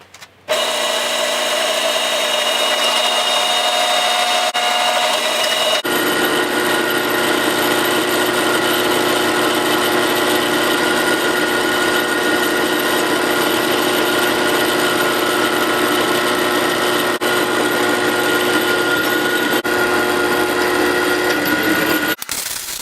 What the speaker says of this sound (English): Drill press seems to do a better job.